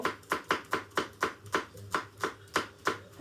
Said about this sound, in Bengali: প্রথমে আমি পেঁয়াজ কেটে নেব